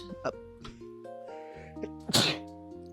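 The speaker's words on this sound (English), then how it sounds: "people sneeze" A single loud, sharp sneeze bursts out near the end, over a quiet background with soft sustained musical tones.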